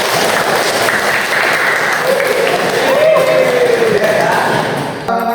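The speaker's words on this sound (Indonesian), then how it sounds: "kasih tepuk tangan dulu deh" Applause from a class audience at a teacher-training lesson, a dense, steady clapping crowd throughout, close and loud, ending abruptly.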